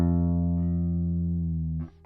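An open bass guitar string rings sustained and clear as a tuning key is turned, its tone held steady then fading and ending in a brief rattle near the end.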